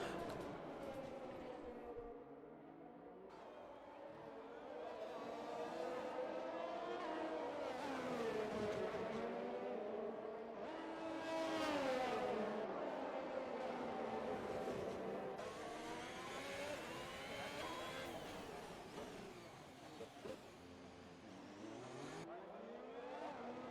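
Race cars lapping Monaco in a racing video game, engines whining and revving up and down through gear changes, a steady loud drone that swells as cars pass, with no talk.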